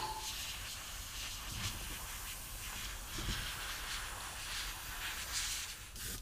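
An airbrush mists blue paint onto a 1/3 scale Venom bust, giving a steady, close, continuous hiss that holds without a break, with no talking.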